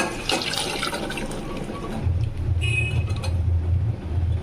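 Chickpea cooking water poured into a pot while making chole, a soft splashing pour that turns into a low, steady gurgling fill, close and fairly faint, with no talking.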